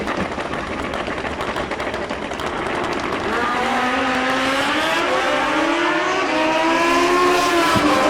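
A Turbo ZX14 drag bike roars down the strip at a drag racing event, its engine pitch climbing steadily in a loud, continuous whine, with a faint voice in the background.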